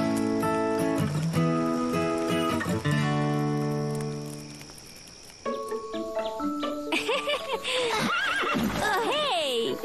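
A horse neighs and whinnies at a farm camp in a dubbed animated series, loud bursts rising and falling through the second half, following music and a sustained tone earlier, with voices talking nearby.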